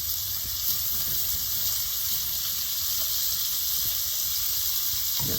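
Steak searing in a pan set in an open hearth fire, a steady close crackling sizzle with faint pops, continuous and alone.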